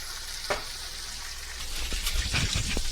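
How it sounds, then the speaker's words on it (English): Bacon frying in a pan during a Southern breakfast cook, a steady crackling sizzle with a few sharper pops and scrapes, close and continuous with no talk. "we got the bacon going"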